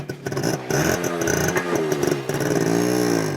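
A Yamaha RX100 motorcycle engine catches and starts, sputtering in uneven bursts before settling into a loud, close two-stroke idle with rising revs and a rattling mechanical edge.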